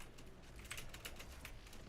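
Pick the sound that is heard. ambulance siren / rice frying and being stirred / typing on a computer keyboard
typing on a computer keyboard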